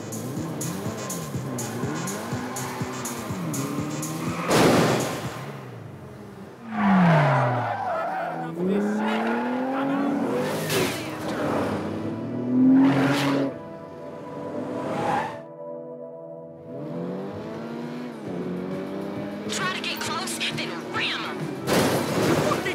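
Cars race and ram each other in GTA Online, with revving engines rising and falling in pitch, squealing tires, skids and impact bangs throughout, loud and close.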